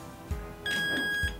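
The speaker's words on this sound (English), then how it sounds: "You can either press and hold again, and you'll get a double beep" Two short electronic beeps from an FPV pan-tilt system, a soft click at each end and a steady tone between, quiet and isolated in a calm room.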